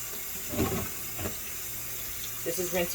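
Tap water running in a sink while a houseplant is rinsed during a switch from soil to semi-hydroponics, a steady close splashing flow with a couple of louder gushes and someone talking over it.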